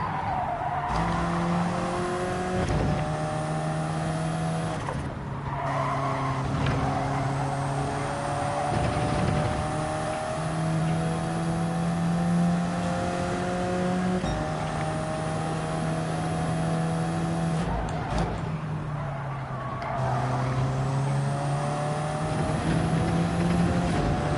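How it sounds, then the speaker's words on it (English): A race car in Gran Turismo 7 at Watkins Glen climbs a hill, its engine revving steadily and shifting pitch through gear changes for over twenty seconds, loud and continuous with faint tire noise. "So we just rev it out going up the hill, but not fully"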